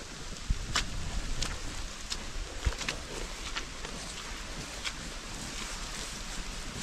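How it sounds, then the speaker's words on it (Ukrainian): Rain falling with a strengthening wind outdoors during a mushroom-foraging trip near bogs, a steady broadband hiss with gusty buffeting and a few sharp taps and knocks. "Дощ посилюється, вітер сильніше став."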